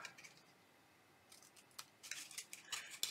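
Scissors snip through paper while cutting a paper tombstone treat box, a series of quiet, close crisp cuts bunched toward the end after a near-silent start.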